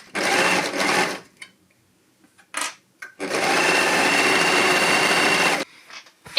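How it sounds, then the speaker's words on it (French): An overlock serger stitches and trims a seam on a tank top with its built-in knife, running in two loud, rapid whirring bursts, a short one then a longer steady run, separated by near silence and a few light clicks. "je vais couper avec le couteau de la surjeteuse 3 mm tout du long"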